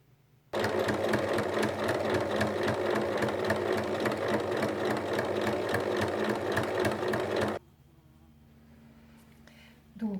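An electric sewing machine stitches tote bag straps 1 mm from the edge, a loud, rapid, even rattling run of several seconds that stops abruptly, leaving quiet room tone.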